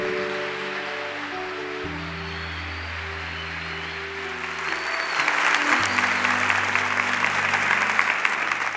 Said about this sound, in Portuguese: Ele merece um aplauso melhor.